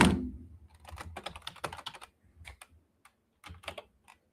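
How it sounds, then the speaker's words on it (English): Quick bursts of clicking keystrokes on a computer keyboard, close and fairly quiet, with irregular pauses between runs and no voices. "I'm typing it in right now."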